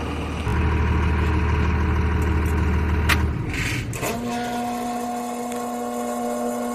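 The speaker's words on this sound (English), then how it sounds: "What in tarnation is that horrible noise? Let's see, a backup hydroelectric brake pump." A backup hydroelectric brake pump on a 1994 Chevy Kodiak wrecker drones loudly and close by, a steady mechanical whine that shifts to a new, higher sustained tone partway through.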